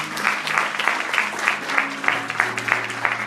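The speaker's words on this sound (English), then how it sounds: "give the Lord a round of applause today" A church congregation claps together in brisk, steady applause, a dense patter of hand claps lasting a few seconds at moderate volume.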